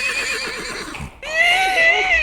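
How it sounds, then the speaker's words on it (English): A horse whinnies loudly in a radio comedy sound effect, the neigh breaking off briefly then returning with a long high whinny, set as a horse loose in a kitchen. "Good heavens, there's a horse in the kitchen."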